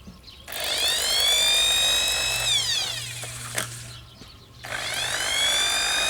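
A Makita BO6030 random orbit sander at its lowest speed whirs steadily with a rising and falling whine, cutting out briefly midway before spinning back up to a smooth, constant hum.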